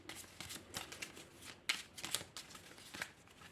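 Cards from a deck being shuffled by hand during a solo game of the Raxxon board game, a soft riffling patter with a few sharper snaps, close and fairly quiet with no talking.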